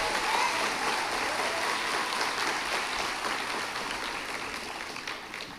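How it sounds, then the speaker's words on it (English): A crowd applauds at the Chattahoochee County High School graduation ceremony in Georgia, with steady, dense clapping that fills the hall and gradually tapers toward the end. "That deserves a round of applause."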